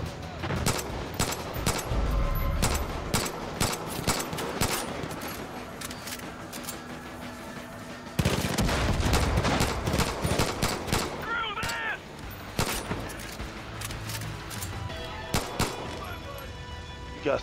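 Pistol gunfire in Far Cry 5, with loud, rapid shots in irregular bursts and volleys throughout, plus other weapons and game effects mixed in close.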